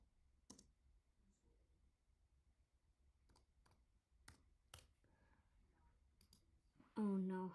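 Computer keyboard typing during a Roblox game session: scattered, sparse key clicks over a quiet background, ending with a loud burst of sound.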